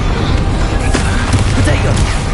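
A Bombarda blasting spell explodes in Hogwarts Legacy, a heavy, continuous booming rumble that fills the whole clip loudly with dense low-end roar and a few sharper cracks.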